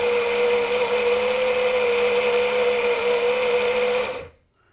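An espresso grinder grinds a double dose of coffee with a steady, loud, high-pitched motor whir for about four seconds, then cuts off abruptly into silence.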